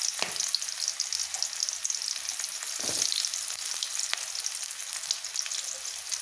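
Chopped large onion sizzles steadily in a pan of oil for a duck curry, a continuous bright frying hiss with a few soft stirring scrapes, close and alone.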